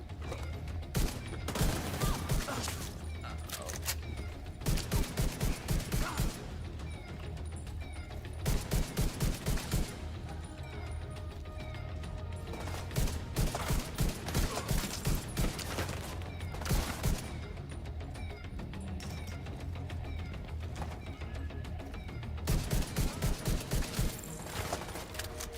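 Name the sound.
shotgun and rocket launcher gunfire in a video game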